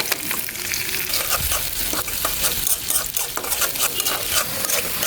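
Cauliflower bhaji is stirred in hot oil in a pan, with spices and bay leaves in the mix: a loud, close, continuous sizzle broken by a steady rhythm of spoon scrapes against the pan.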